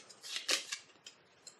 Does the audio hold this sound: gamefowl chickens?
no